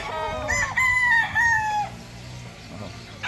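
Gamecock roosters on a farm crow loudly nearby, one long drawn-out cock-a-doodle-doo followed by clucking and a start of another crow at the end, with faint background murmur.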